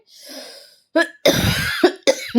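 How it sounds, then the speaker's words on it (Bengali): A person coughs several times up close, in harsh, loud bursts separated by short pauses. A breathy throat sound comes just before the coughs. "দেখুন কি পরিমাণ কাশি হয়েছে"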